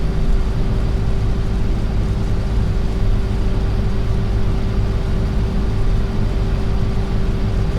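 Engine of a tractor in a farming video game, a steady low rumbling drone with a constant hum, continuous and even throughout, with no talking.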